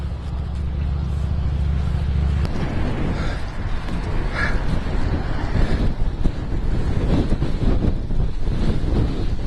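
Strong high wind buffets the microphone in a continuous loud roar with gusty surges during an outdoor ride under a state of emergency, and a low engine-like hum fades out early on.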